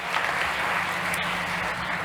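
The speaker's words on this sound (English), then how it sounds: "Big applause for Antonio." Audience applause at a startup competition on health and wellbeing, a steady wash of clapping that holds at an even level throughout, with no voices over it.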